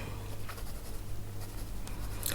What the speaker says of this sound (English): though I like coloring with blunt-ish pencils a lot, I don't sharpen them every time I bring them to the paper